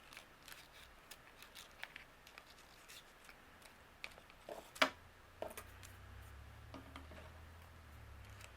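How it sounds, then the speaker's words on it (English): Scissors trim the bottom edges of small paper flags for a slide-out pocket card, giving a string of quiet, close snips and clicks, one louder cut midway, over light handling noise. "I'm just going to trim the bottom a little bit."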